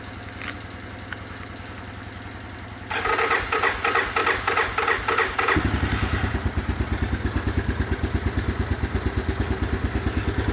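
A worn-out small engine with a sticky carburetor float cold-starts after a few cranking attempts. It catches with a loud burst and settles into a rapid, steady, clattering idle close by.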